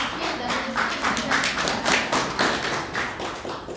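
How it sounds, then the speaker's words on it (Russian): Audience applause at a blockchain hackathon, a dense steady patter of many hands clapping at moderate loudness, continuing for several seconds without a break. "Аплодисменты, да?"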